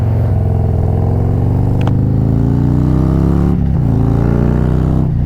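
Harley motorcycle fitted with a 131ci Stage 4 crate engine revving hard, a loud close deep rumble that swells and settles through a couple of throttle blips.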